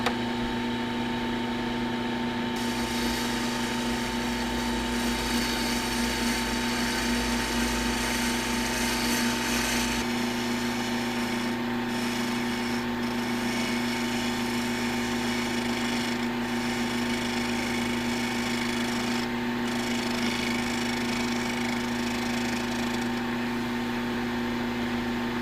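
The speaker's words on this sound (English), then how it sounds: "Nothing like a sharp bowl gouge." A sharp bowl gouge cuts a segmented walnut and ash tall vase spinning on a wood lathe. A steady mechanical hum and drone runs throughout, with a brighter scraping hiss for the first stretch, heard close and without talk.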